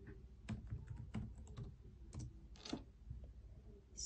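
Fingers type on a computer keyboard at close range, a quick irregular run of light clicking keystrokes with short pauses between bursts.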